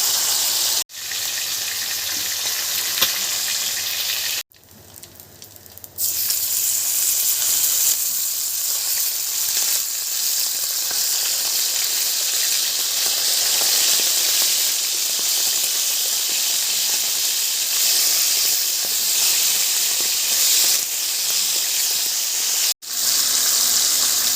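Chicken fries in a pan with a loud, steady sizzle and hiss that carries on throughout, broken by a few brief drops and a short quieter stretch.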